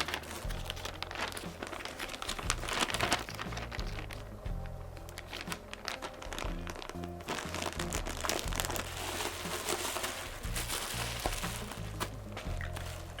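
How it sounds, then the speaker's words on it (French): Bubble wrap crinkles and crackles continuously as it is handled to wrap a Pullip doll, dense irregular plastic rustling close by with occasional sharper crunches and no voices. "c'est le papier bulle avec lequel ma dernière doll est venue"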